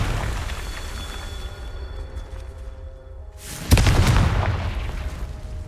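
A Confringo spell blast in the Hogwarts Legacy video game lands as one sharp, loud, booming explosion near the four-second mark. A quieter low ambient bed runs before it, and a rumbling decay of the blast trails after.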